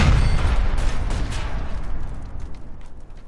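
Gunfire crashes out in the LA Noire video game, a loud booming burst of shots at the start that trails off into fainter cracks and echoing reports.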